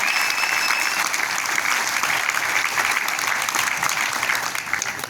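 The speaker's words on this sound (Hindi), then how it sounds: "आसिफ भाई के लिए जोरदार ताली होनी चाहिए, जोरदार" Steady, dense clapping from a business seminar audience applauding Asif bhai, even and sustained throughout before easing slightly at the end.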